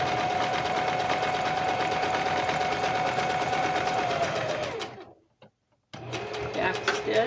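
A domestic sewing machine stitches fabric in a loud, steady, rapid whir up close, stopping briefly near the end and then restarting for a short backstitch burst.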